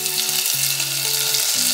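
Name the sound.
chopped green chillies frying with cumin in oil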